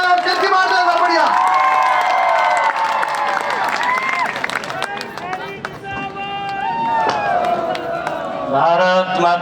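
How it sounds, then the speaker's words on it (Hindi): Crowd applause and cheering at a Haryana political rally honouring Chief Minister Nayab Singh Saini, a loud sustained roar of clapping and shouting with voices calling out over it throughout. "श्री नायब सिंह सैनी जी के लिए जोरदार तालियां बजाएं"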